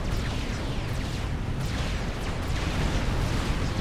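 Battle sounds from the real-time strategy game Supreme Commander, played in a clan tournament match: dense, continuous booming gunfire and explosions rumbling steadily throughout, loud and unbroken with no clear gaps.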